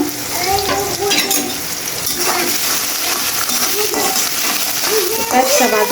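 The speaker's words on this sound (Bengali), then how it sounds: "তো মরিচ সব কিছু দিয়ে দিলাম শাক বাগারের জন্য" Chillies and spices sizzle loudly in hot oil while being tempered for a dish of greens, a constant crackling fry with scraping stirs and clinks of a spatula, close up, a voice talking over it.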